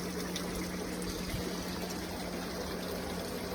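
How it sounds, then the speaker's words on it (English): Water from a koi pond siphoned through a hose straight onto a floor makes a steady, continuous trickle and splash, close and unbroken, with a constant low hum underneath. "We're just siphoning a bit out directly onto the floor"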